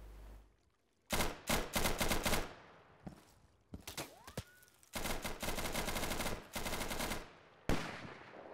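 Gunfire in the video game Insurgency, with long loud bursts of automatic fire and single sharp shots separated by brief pauses, close and dominant.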